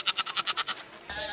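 A goat at an animal fair bleats up close, one wavering cry pulsing rapidly, followed by a short stretch of quieter background noise.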